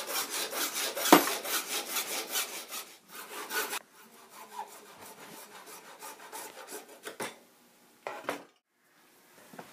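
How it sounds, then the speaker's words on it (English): A hand saw cuts through a short piece of 1-inch internal diameter PVC pipe in rapid, loud rhythmic strokes. The strokes stop partway, followed by quieter scraping and a few knocks. "cutting a 1 5/8 inch piece of PCB pipe that has a 1 inch internal diameter"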